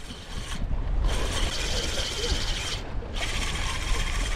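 A fishing reel's drag clicks in a fast, steady ratchet as a gurnard pulls line during land-based harbour fishing in New Zealand. The clicking runs almost continuously with two short pauses.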